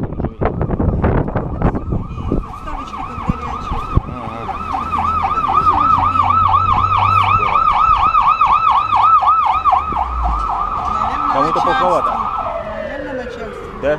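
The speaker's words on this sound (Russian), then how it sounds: "аж сирену врубили" Emergency vehicle siren on a street in Bakhchisaray, Crimea, wailing loudly and steadily with a rising and falling pattern for several seconds, passing close with traffic noise underneath and brief talk nearby.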